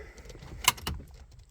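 A car key is pulled from the ignition of a Ford Focus MK2, giving a sharp metallic click and a brief jingle of keys, close up in a quiet cabin.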